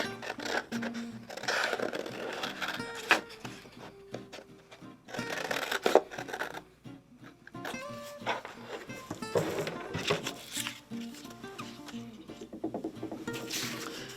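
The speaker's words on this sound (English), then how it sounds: "You can just freehand cut this if you want without even drawing" Scissors cutting a paper shape freehand for a fall scene collage, with faint irregular snips and paper rustling, close and quiet, no speech.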